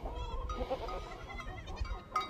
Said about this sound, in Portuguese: As cabras começaram a dar cria.